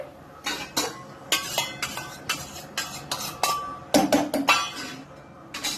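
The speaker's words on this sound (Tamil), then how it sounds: "ஒரு கரண்டியால இதை வந்து நல்லா மிக்ஸ் பண்ணி விட்டுக்கலாம்" A spoon scrapes and clinks against a metal pan while popcorn ingredients are mixed, giving a steady series of about a dozen sharp, close knocks with a quieter spell between strokes.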